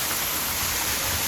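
Water flows continuously in a stream near a hill fort on the Raigad route, a dense, even rushing hiss, close and steady with no talk.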